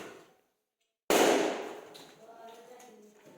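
A balloon bursts with one sharp, loud pop during a children's balloon-popping contest, followed by excited chatter and voices.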